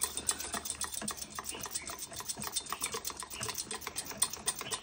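A gram flour batter is beaten briskly in a bowl, a quick, rhythmic clicking of whisk or spoon against the container repeating rapidly and evenly, close by and without talk.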